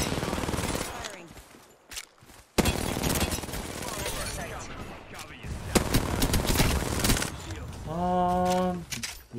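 R-99 SMG fire in the Apex Legends video game, rapid crackling bursts that come and go in a busy firefight, with a player talking over the shooting.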